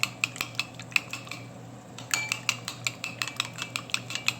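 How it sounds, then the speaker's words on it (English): Goat biryani mixture stirred in a pot with a utensil, giving a steady run of sharp metallic clinks and scrapes, close and fairly loud, pausing briefly midway before resuming. "Mix that up."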